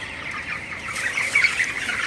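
Broiler chickens on a poultry farm, about twenty-five days old, giving soft, continuous clucks and murmurs at moderate distance with no talking.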